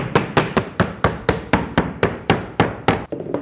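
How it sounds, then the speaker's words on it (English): Steady hammer blows strike the wood of a subwoofer box, about a dozen sharp knocks in an even rhythm, close and loud with no talking. "A little hammering sometimes."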